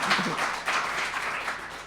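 An audience applauds a man named Tim in a studio setting, a short burst of scattered hand clapping that swells and stays moderately loud before easing off slightly.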